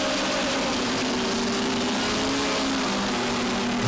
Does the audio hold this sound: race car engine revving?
yes